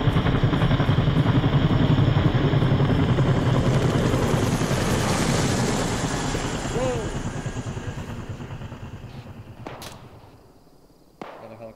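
A Hind attack helicopter in the military game ArmA 3 roars loudly with heavy rotor thump and engine whine, then slowly fades into the distance, ending with a few sharp cracks and a quieter tail.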